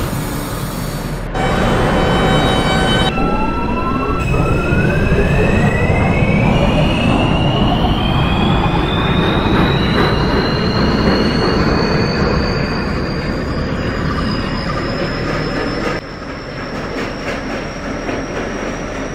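An R160A subway train on the R line pulls away in the OpenBVE simulator, its motor whine climbing steadily in pitch over rumbling wheels and rhythmic track clatter, loud and continuous.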